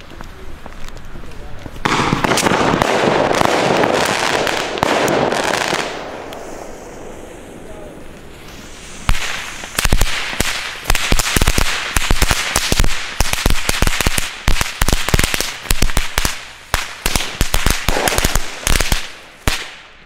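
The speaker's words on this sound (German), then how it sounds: "Jetzt machen wir weiter mit einer schönen Knallkette." A string of New Year's Eve firecrackers goes off in a rapid, crackling series of sharp bangs, loud and close, after a stretch of hissing burning.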